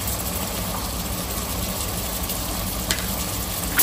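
Onion with ginger-garlic paste and garam masala sautéing in a pressure cooker, giving a steady, close broadband sizzle with a low rumble that holds evenly throughout, plus one brief clink near the end.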